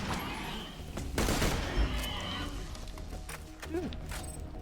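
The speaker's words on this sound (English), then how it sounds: "Load the goddamn sniper rifle." Sniper rifle gunfire in the shooter game Borderlands 2, a few sharp loud reports with a burst of rapid firing and clattering action, close and punchy over a busy game backdrop.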